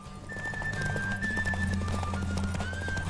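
Roach, the horse in The Witcher 3, trots with steady clip-clop hoofbeats close by, under a sustained musical drone, with a brief whinny mixed in.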